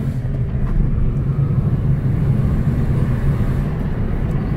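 Car pulling away hard from a standing start with its wheels spinning, a loud, steady low engine roar holding at one pitch for several seconds, close by and with no talking over it.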